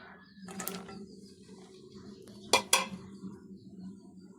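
Sponge gourd pieces go into a cooking pan for a dish with small puti fish. Several sharp metallic clanks of a utensil against the pan stand out, two close together, over a quiet background.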